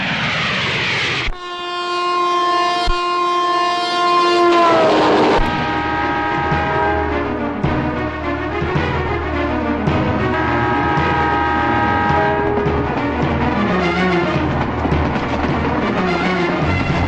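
A train sounds a long, loud horn blast, then rumbles past close by with continuous rolling clatter from the wagons.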